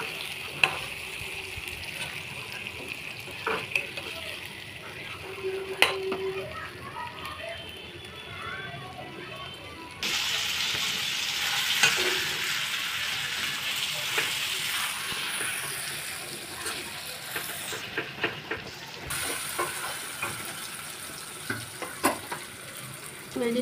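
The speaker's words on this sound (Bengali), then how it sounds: "চিকেন সসেসগুলো দিয়ে দেবো। হালকা হালকা হাতে নাড়তে হবে।" Chicken sausages frying in spiced oil in a pan, with a steady crackling sizzle and occasional gentle stirring scrapes, growing louder midway; faint voices in the background.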